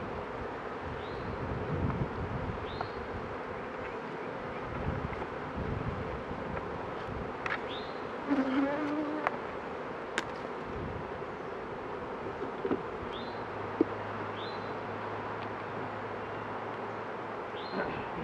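Honey bees buzz faintly around an opened beehive during a hive split, a soft continuous hum under outdoor wind with occasional small clicks from handling the frames.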